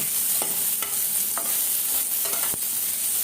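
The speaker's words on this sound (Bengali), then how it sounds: "তো দু তিন মিনিট ধরে আমি পেঁয়াজটা ভেজে নিচ্ছি" Chopped onions frying in a pan with a steady sizzle, broken by several sharp scrapes and clicks as a spoon stirs them, close and clear with no voices.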